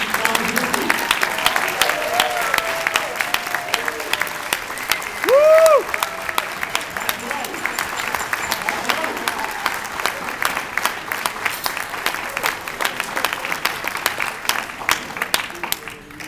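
A breakfast crowd of New Jersey delegates applauds Newark Mayor Cory Booker, sustained dense clapping from many hands filling the room, with brief voices and a whoop rising over it partway through.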